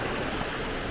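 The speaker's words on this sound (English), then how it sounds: "look at these waterfalls." Waterfalls in the Faroe Islands give a steady, dense rush of falling water, a continuous broadband roar with no breaks and no voices.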